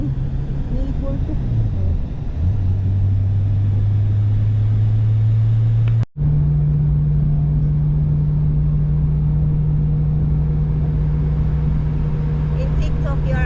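A car engine hums from inside the cabin, a steady low drone that shifts pitch slightly early on, with a brief dropout midway, while people talk over it.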